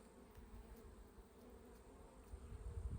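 Honeybees humming in a captured swarm hive full of drawn comb, honey and brood, a faint, steady buzzing drone heard up close, with low rumbling handling noise rising near the end.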